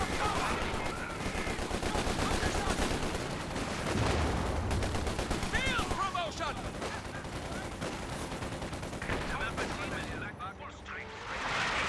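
Dense, continuous machine gun bursts and mortar blasts from a British Fronts tournament video game battle, loud and constant throughout, with frequent overlapping shots and heavier booms mixed in.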